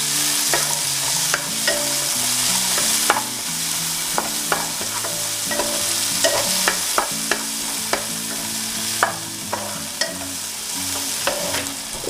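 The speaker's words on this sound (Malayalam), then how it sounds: "ഈ തക്കാളി നന്നായി വാടി വരുന്നവരെ ഇതൊന്ന് വഴറ്റിയെടുക്കാം കേട്ടോ." Ripe tomatoes sautéing in a pan for a ration-rice chicken biriyani give a steady close sizzle, broken by repeated sharp clicks and scrapes of stirring, with no talk.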